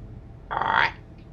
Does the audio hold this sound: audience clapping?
no